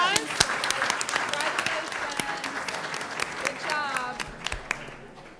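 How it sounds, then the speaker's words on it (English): Moderate applause honoring students at a school board business meeting, an uneven ripple of claps with several people talking and calling out over it, fading gradually toward the end. "One more round of applause."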